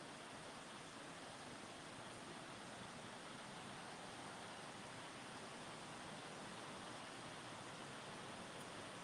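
Small waterfalls splash into a resort pool at Stormalong Bay, Epcot Resort Area, giving a steady, dense rush of falling water that holds unchanged throughout with no voices.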